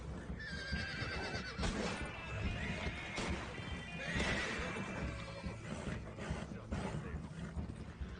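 Horses neigh and whinny in Red Dead Redemption 2 Online amid a horse-stealing raid, with repeated loud whinnies over clip-clopping hooves and busy in-game background noise.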